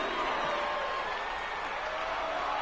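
Wrestling crowd at a live independent show chanting in unison, a steady loud roar of many voices filling the whole clip without a break.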